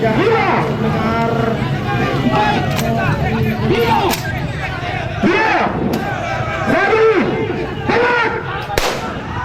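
Several sharp gunshot cracks at irregular intervals during a police security drill in Aceh Barat, Indonesia, some distant and booming, over a crowd's babble and raised voices.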